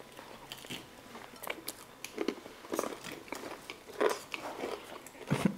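Crispy fried chicken is bitten and chewed up close, a series of irregular crunchy bites and wet chewing sounds, fairly quiet, with no talking.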